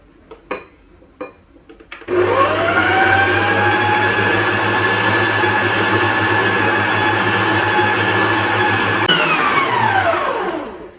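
After a few soft clicks and knocks, an electric mixer whirs loudly and steadily for about eight seconds as cream is blended into a warm chocolate mixture for a dessert, then winds down.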